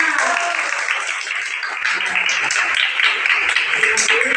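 Classroom applause from students during a teaching-practice lesson, a dense, steady wash of clapping that holds at even loudness through the whole stretch with no talk over it.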